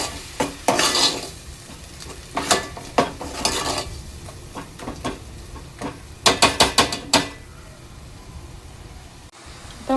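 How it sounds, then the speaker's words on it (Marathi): Paste of roasted onion, roasted coconut, ginger, garlic, chilli and coriander frying in oil for an egg curry, with a steady sizzle broken by repeated sharp scrapes and clinks of a spoon stirring against the pan, close and fairly loud. "वाटण आपलं तेलावर चांगलं परतून घ्यायचं आहे 3 ते 4 मिनिटं।"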